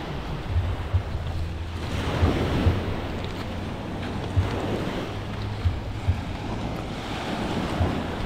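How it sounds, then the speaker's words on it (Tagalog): Ocean waves surge and wash onto the beach at San Juan, Batangas amid steady wind rumble, with occasional soft thumps; no voices. "Lakas ng alon po."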